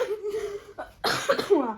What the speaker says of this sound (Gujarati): ઉધરસ આવી રહી છે